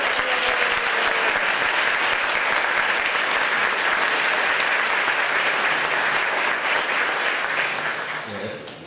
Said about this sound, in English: give Miss Karen Porter a huge round of applause